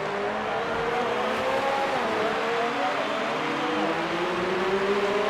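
Super Formula race cars fight wheel to wheel at the Canadian Grand Prix, their engines a steady, loud, high whine with rising pitch sweeps as they accelerate, heard continuously without a break.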